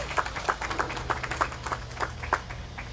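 A small audience claps for Andres and his team at Hemisphere Park during a Muertos Fest announcement; the claps land in a steady, fairly even rhythm, moderately close, with no voices over them.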